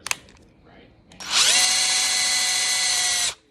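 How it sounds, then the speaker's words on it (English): A power drill bores holes into the legs of a homemade computer stand. After a click and a faint voice, the motor spins up into a loud, steady high whine for about two seconds, then stops abruptly. "Okay, so I'm drilling the last 2 holes, as you can see in here, into the legs."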